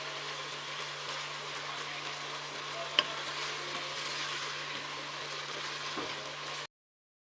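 Potato and eggplant fry uncovered in a pan with a steady, soft sizzle and a couple of faint stirring clicks, close and continuous before cutting off.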